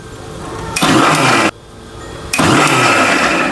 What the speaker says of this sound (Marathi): हे मिश्रण मिक्स करायसाठीच फक्त थांबून थांबून मी मिक्सर 1 सेकंद फिरून घेते